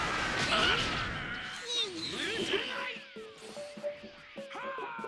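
Cat meowing in the video game Dragon Ball Xenoverse 2, several rising and falling meows amid busy fighting effects, whooshes and impacts, with a voice talking over parts of it.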